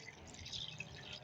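Water poured into a pan of cooking beef gravy, a steady close splashing and trickling pour with no talk.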